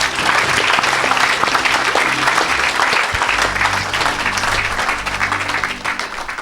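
A church congregation claps and cheers in sustained applause, dense and loud throughout, with some voices mixed into the crowd noise.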